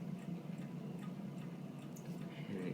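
A Seth Thomas Legacy V mantel chime clock ticks softly in a quiet room, a faint, steady tick-tock over a low background hum, with no voices.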